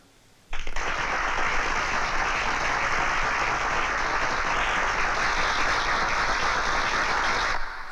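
Applause bursts in abruptly from a gathered crowd in a Hindi film scene, a dense, even roar of many hands clapping that holds steady for several seconds before cutting off.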